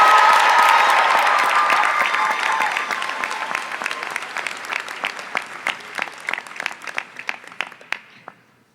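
Audience applause welcomes a speaker at a 12th grade high school graduation ceremony, loud and dense at first, then thinning into scattered individual claps that fade out over about nine seconds.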